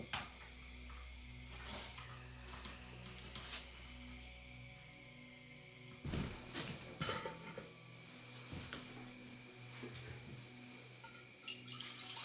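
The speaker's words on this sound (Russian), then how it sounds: "воду кипятиться на чай." Tap water runs into a kettle or pot for tea, a steady close splashing stream with clinks of metal and dishes and a few louder knocks, no one speaking.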